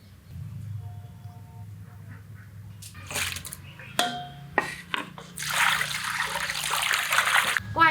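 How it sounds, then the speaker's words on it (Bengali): Cut pieces of small three-spined fish being rinsed in water in a home kitchen, with splashing and trickling that builds to a steady, close wash of running water toward the end. "মাছগুলো কেটে বেশি পরিষ্কার করে ধুয়ে নিলাম"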